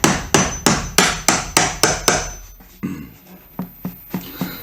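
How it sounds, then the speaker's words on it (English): A painter's tool is hammered behind baseboard moulding, about eight sharp, evenly spaced taps followed by a short scrape and five lighter, quicker taps, close and loud with no voices. "we're going to just tap our painter's tool in"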